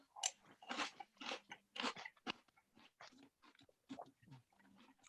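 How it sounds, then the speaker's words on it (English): Loud, crisp crunching from someone chewing Oreo O's cereal close to the microphone, a steady series of bites and chews with short pauses between. "These are bloody crunchy."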